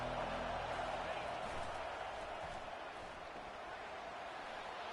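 Stadium crowd noise in the College Football 25 video game, a dense continuous roar of a large home crowd during a kick return, steady and loud throughout with no break.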